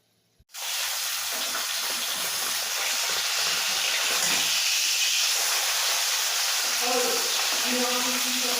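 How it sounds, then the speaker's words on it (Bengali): Fish sizzles loudly in hot oil in a pan where potatoes were fried just before, a steady dense hiss that starts abruptly and continues without pause, with faint voice-like tones near the end. "এবার মাছ ভেজে নিলাম"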